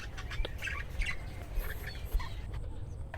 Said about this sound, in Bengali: অসাধারণ সব দেশি বিদেশি পাখি তার খামারে